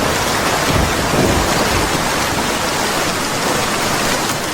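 Heavy rain pours down in a cartoon scene, a loud, dense, unbroken roar of falling water with a low rumble underneath, steady from start to finish and free of talk.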